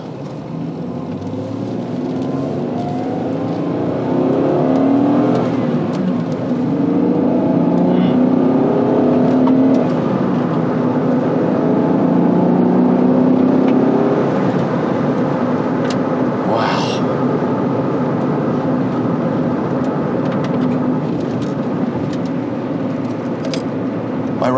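A 1991 Acura NSX engine pulls steadily under acceleration from a standstill in city traffic, a continuous rising drone heard from inside the car with a driver talking over it.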